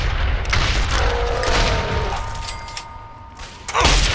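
Lincoln's repeater rifle fires in Fallout 3, a loud booming shot at the start and another heavy blast near the end, with mechanical action and game effects ringing in between.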